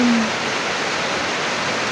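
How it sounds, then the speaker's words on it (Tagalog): Steady rain falls without pause during a rainy spell in January, a dense, even hiss that holds the whole time with a brief low tone at the start. "January 12 na ulan pa rin ng ulan"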